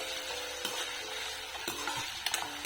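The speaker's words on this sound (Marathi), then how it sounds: "परतून घ्या व्यवस्थित" Potato pieces sautéing in oil in a pan for sabudana khichdi, a soft continuous frying hiss with a few quick spatula scrapes near the end, close but fairly quiet and without talking.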